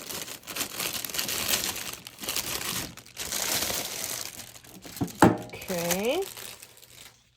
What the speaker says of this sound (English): We are going to open this out of the cellophane.